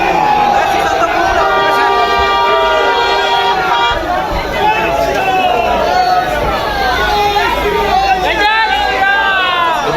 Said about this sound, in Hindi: जब पहुंचे हैं तो भारी भीड़ जुटी है